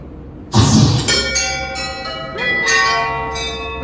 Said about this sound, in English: There's a bell by my door.